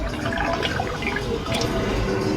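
Grated potatoes for crispy chips dropped into a large pot of water, giving close, wet splashing and dripping sounds with a sloshing, trickling texture.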